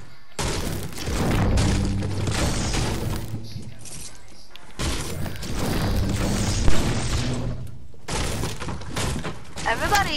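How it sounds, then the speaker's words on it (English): Buildings are smashed apart in a video game, heard as bursts of crashing, shattering debris and thuds in three loud clusters separated by short pauses, with some voice mixed in. "Destroying the buildings."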